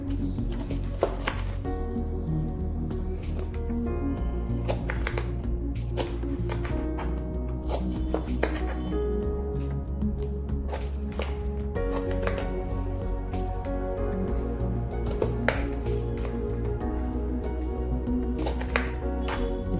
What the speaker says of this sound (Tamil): நல்லா பிஞ்சு மாங்காயாக இருந்தால் அதோடையும் நல்லா வருங்க கட் பண்ணுறதுக்கு சைஸ் கட் பண்ணி காமிக்கிறேன்